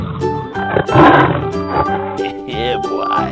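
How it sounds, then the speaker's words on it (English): A cartoon lion roars in a loud, growling burst with a rumbling, rising and falling texture, close and alone for a few seconds. "Lion."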